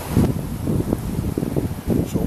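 Gusty wind buffets a microphone outdoors during a sneaker photo shoot, a low, uneven rumble with rustling surges, close and loud, with no talk.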